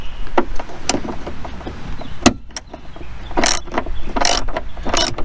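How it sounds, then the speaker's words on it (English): A 3/8 drive ratchet set in reverse, with an extension, works a bolt loose on a 4th gen Camaro, producing close, sharp clicking bursts and short ratcheting runs in uneven spurts, loud and alone. "Make sure you got your ratchet in reverse."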